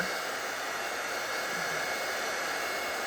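A hair dryer blows steadily and fairly loudly over watercolor paint sprinkled with salt, its broadband rushing hiss unbroken and alone for the whole three seconds.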